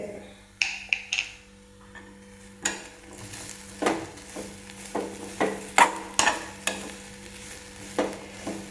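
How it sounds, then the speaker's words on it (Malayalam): Fennel seeds and white peppercorns, with shallots and garlic, toasting in a pan for a jackfruit curry, with a spoon clicking and scraping in a steady series of sharp taps over a faint low sizzle. "നന്നായി ഒന്ന് മൂപ്പിച്ച് വറുത്തെടുക്കാം കേട്ടോ"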